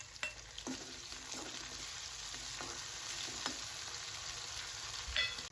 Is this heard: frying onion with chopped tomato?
yes